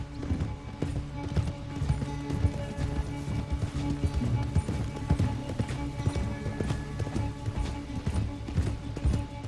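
Horse hooves gallop in a fast, steady clip-clop rhythm in Red Dead Redemption 2 on a ranch, with several animals running close and loud for the whole stretch, and a faint whinny may come through.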